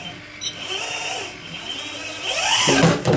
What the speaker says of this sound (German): wenn der Schnellwechsler betätigt wird, dann fährt dieser Bolzen hier, der jetzt hier gerade den Löffel hält, wieder ein